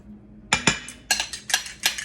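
Metal whisk striking the sides of a mixing bowl while beating egg whites for chocolate banana muffins, a run of quick bright clinks in short bursts, close and clear with no talking.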